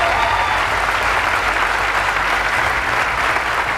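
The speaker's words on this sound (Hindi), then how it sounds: "इनके लिए जोरदार तालियां इन सबके लिए" Steady, dense applause from a stage-show audience at a meeting of Sandeep Maheshwari and Sourav Joshi, sustained and fairly loud throughout with no pauses, crowd clapping filling the whole stretch.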